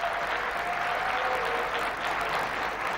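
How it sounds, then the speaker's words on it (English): Summit audience gives a warm round of applause for Presidents Ruto and Macron, a steady, even wash of many hands clapping throughout, with no talk over it. "please give President Ruto and President Macron a warm round of applause"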